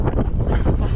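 Strong gusts of wind batter the microphone on the exposed summit of Netravati Peak, a loud, continuous rumbling roar with no voices.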